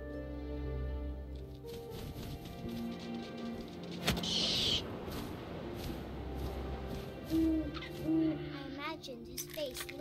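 An owl hoots in What Remains of Edith Finch, a few soft calls near the middle of the clip over wind and a steady musical drone, no talk.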